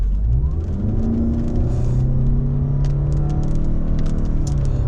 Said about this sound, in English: I'm going to put it into sport mode and hit the accelerator